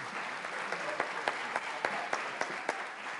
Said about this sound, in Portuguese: palmas para os nossos astros.